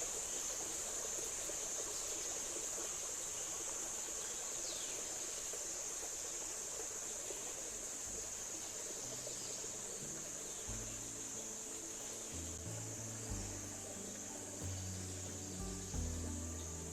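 Clear water flowing in a stream in Gashaka Gumti National Park, Nigeria: a steady, even trickle and gurgle running throughout, with a constant high insect-like hiss over it and some low rumbling bumps toward the end.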